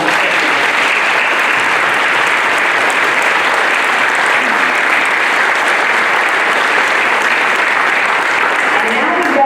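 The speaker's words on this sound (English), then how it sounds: "I'd like you to give them a big round of applause" Loud, sustained applause from an audience at the opening of a bicycle factory in Manning, South Carolina, dense steady clapping filling the whole stretch with a hint of voices underneath.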